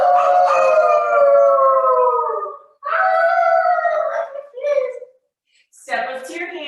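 During a kids' yoga session, a voice imitates a dog's howl, with two long, wavering howls and a shorter yelp, each separated by brief pauses, loud and close.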